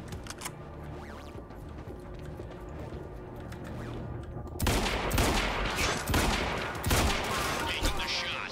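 Loud shotgun blasts in Quantum Break, a couple of heavy booming shots that jump out suddenly after a quieter stretch of game ambience, with echoing tails.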